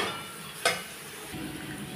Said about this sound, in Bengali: এখনই আমি এর মধ্যে বাদামগুলো, যে ভাজা বাদামগুলো ছিল সেটাও আমি দিয়ে দেব, দিয়ে আমি কষিয়ে নিচ্ছি